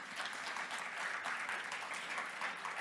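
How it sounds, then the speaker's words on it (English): Audience applause for the speakers at the close of a DeFi panel session at Cosmoverse 2025: steady, dense clapping from a crowd, fairly quiet and distant, sustained throughout with no talk over it. "Please give them a huge round of applause."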